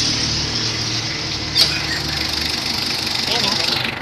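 A Mitsubishi Adventure engine idles after a tune-up with a steady, even hum heard up close, broken only by a single brief click partway through.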